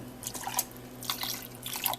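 A small splash of water is added to a pot of milk on the stove, heard as a few soft drips and splashes at a steady close distance with no one speaking.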